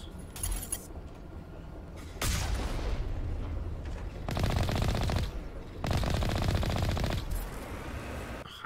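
Video game gunfire from Mass Effect using high explosive rounds, with a few sustained loud bursts of rapid shots separated by brief pauses, plus short blasts.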